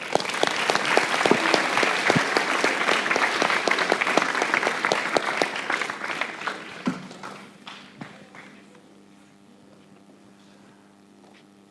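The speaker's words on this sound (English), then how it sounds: "A round of applause for the speaker." An audience at the Gauteng Boy Child Sector Parliament claps loudly and steadily for several seconds, then the applause thins into scattered claps and fades out, leaving a low steady hum.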